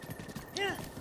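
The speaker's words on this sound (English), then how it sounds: "I'm gonna have to try to get Epona down this cliff" Epona's hooves clip-clop in Zelda: Breath of the Wild, a short rhythmic run of hoofbeats near a cliff, with a brief whinny-like call over game music and a voice talking.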